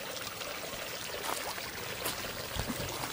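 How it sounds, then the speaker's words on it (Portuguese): A punctured bicycle inner tube being dipped into water to find the leak, with faint sloshing and trickling water that carries on quietly throughout. "Põe ela dentro d'água lá."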